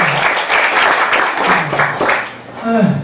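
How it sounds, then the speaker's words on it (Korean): Dense, steady applause from a crowd fills the clip, with a voice briefly audible near the end. "박수 한번 주세요."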